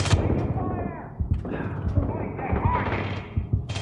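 Rapid gunfire and grenade blasts from several mercenaries in the shooter Aliens: Colonial Marines crackle and thump continuously, loud and busy, while someone talks over the action.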